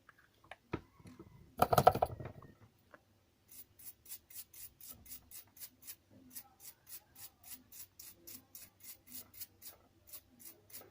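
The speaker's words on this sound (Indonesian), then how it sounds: "Kita bersihkan lagi sisa fluk yang tadi supaya lebih bersih mesinnya." Scrubbing away leftover flux on an OPPO A37 phone board gives quiet, quick rhythmic scratching strokes close up, after a brief louder rustle near the start, with no talk.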